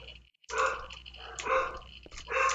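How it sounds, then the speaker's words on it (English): Dogs bark downstairs in a house, several loud close bursts after a brief silence, rough and overlapping, with no talking. "Hear those dogs downstairs?"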